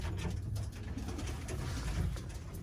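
A young pair of Birmingham Roller pigeons coos close by, soft low repeated throaty calls overlapping continuously with faint rustling in the loft.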